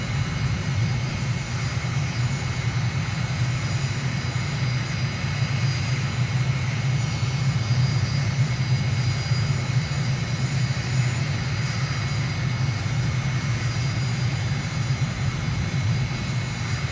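A flight simulator game airplane on a landing approach, with gear and flaps down and the throttle pulled back, gives a steady, loud engine drone with a low rumble that holds constant throughout, with no voices.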